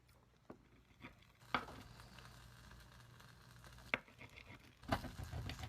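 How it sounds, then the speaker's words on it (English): Faint crackling sizzle of a hot pizza under a steady low hum, with a few sharp knocks of a blade cutting through it. "you can hear it sizzling as we cut into it"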